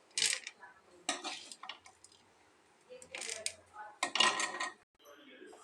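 Okra chutney with coriander leaves being scraped from a kadai onto another plate, a few separate bursts of metal spoon scraping and clinking, close and quiet with silence between.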